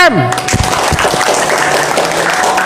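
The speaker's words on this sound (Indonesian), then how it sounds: "tepuk tangan untuk Mr. T" A gathered audience gives applause for Mr. T, a dense, loud burst of clapping that continues steadily throughout after a brief voice at the start.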